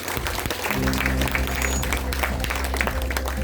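Audience applause at an awards segment of a felting art studio exhibition, steady clapping from a crowd under sustained musical tones.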